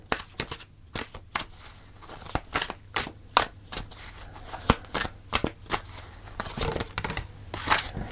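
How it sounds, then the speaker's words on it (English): Tarot cards are shuffled by hand in a run of crisp, irregular riffling snaps and slaps, close and fairly loud, with short pauses between bursts and no voice. "Let's pull one more advice card for you, Capricorn."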